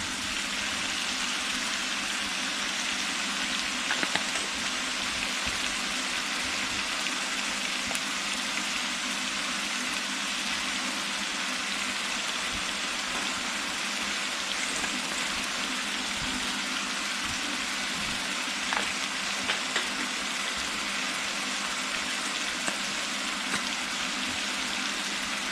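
A pot of gumbo boiling down on the stove: a steady, hissing, bubbling simmer that stays even and moderately loud throughout, close by, with no talking over it.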